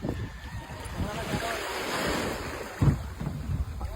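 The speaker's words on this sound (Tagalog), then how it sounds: "malakas ang alon" Rough surf and wind roar steadily close by, with waves surging and breaking, and a brief thump near the end.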